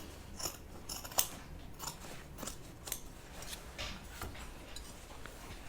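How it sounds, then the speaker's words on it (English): Scissors snipping through fabric while a project bag is sewn, a series of quiet, crisp cuts and clicks at close range, irregular over several seconds with no talking. "Get the other edges away from the scissors."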